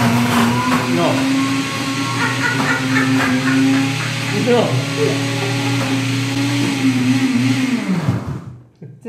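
Kitchen blender blending chickpeas, a loud, steady motor whine with grinding churn throughout before it winds down and stops near the end; a voice speaks briefly over it.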